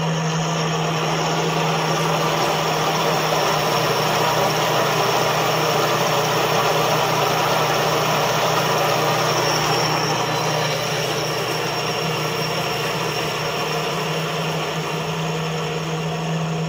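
A Schenck HM30NU balancing machine, rated for 1000 lb, spins a shaft with a steady loud mechanical hum and drone holding an even level the whole time, with no talk.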